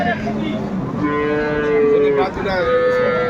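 A dairy cow moos at a crowded cattle market in Dinajpur, one long, loud, close call that rises and wavers, with faint crowd noise underneath.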